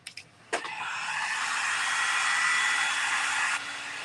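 A hair dryer drying paint on a drum shell starts with a click, then blows a steady, loud whooshing hum for about three seconds before switching off. No one talks.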